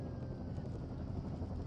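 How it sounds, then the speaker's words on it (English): Helicopter in the video game Firewatch arriving at a wilderness lookout, a steady low rotor rumble with broadband wash filling the whole moment at moderate loudness, no voices over it. "There's the helicopter."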